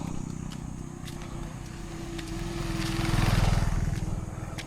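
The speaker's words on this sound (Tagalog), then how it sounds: "Ating motor." A motorcycle engine idling and running close by, a steady throbbing putter with a low tonal hum that builds louder midway and then eases off slightly.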